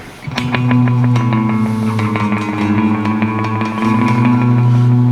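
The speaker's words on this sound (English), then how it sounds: "So this is a delay chorus. And what that does is it gives you kind of an echo effect." Electric guitar played through a Memory Man delay chorus pedal, sustained chords ringing with repeating echoes and slight pitch-wobbling modulation, loud and close, with no voices.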